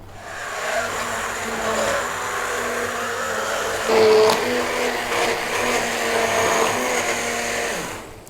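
A blender whizzes carrot and coriander soup until creamy, a loud steady motor whir running the full length with a brief surge in pitch midway and no talking.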